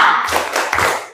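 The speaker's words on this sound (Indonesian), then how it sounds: "kita coba tepuk semangat dulu yang lebih kencang lagi" A group doing a short, loud rhythmic spirit clap (tepuk semangat) at a training session, with a few sharp, close claps in quick succession.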